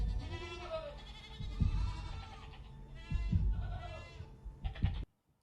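Several goats bleat in a scene from the TV drama Severance, giving repeated wavering cries over a busy background before the sound cuts off abruptly.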